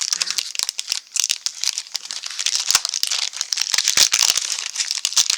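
A Magic the Gathering booster pack wrapper is crinkled and torn open by hand, giving a busy stream of sharp plastic crackles and crunches, close up and continuous with brief pauses.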